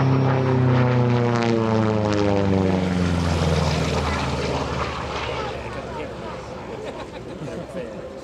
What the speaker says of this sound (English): Powered by the Pratt & Whitney R2800 double-watt radial engine